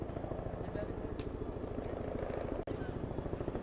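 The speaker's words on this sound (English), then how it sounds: "We'll wait for that helicopter" A helicopter's rotor thumps steadily and loudly nearby as it comes in to land outside a press conference, with a brief dropout near the end.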